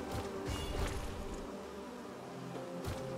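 A big bee in the video game Hollow Knight buzzes steadily and loudly throughout, a dense insect drone with swelling bursts, mixed with the game's ambient sound.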